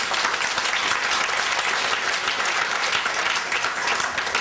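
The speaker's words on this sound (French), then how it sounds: "je voudrais qu'on l'applaudisse si vous êtes d'accord avec moi" Audience applause at a gathering for a women's museum, a continuous, loud wash of many hands clapping evenly from start to finish with no talking over it.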